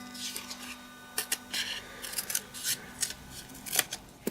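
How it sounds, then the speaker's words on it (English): Scissors snip through layered paper for a fringed gnome craft, giving close, crisp irregular cuts and rustling that repeat quietly over a faint steady background hum. "So I'm going to cut it from there"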